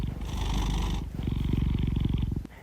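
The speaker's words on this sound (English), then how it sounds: "Sorry, my cat's close to the mic." A house cat purrs right against the microphone, loud and close, with a steady pulsing buzz that pauses briefly for a breath and then resumes.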